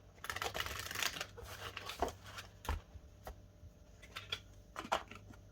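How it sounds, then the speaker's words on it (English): Tarot cards shuffled by hand in a quiet room, a run of close, soft riffling and flicking bursts with brief pauses and a few sharper taps as the deck is squared. "One little shuffle before I cut."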